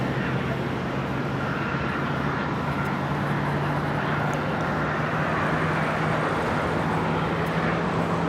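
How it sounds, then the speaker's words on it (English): A Hawaiian Airlines Airbus A330 takes its takeoff roll on runway 24R at Los Angeles International Airport, heard as a steady, broad jet roar with a low engine hum, continuous and fairly distant throughout. "We have a Hawaiian A330 now rolling on 24 right."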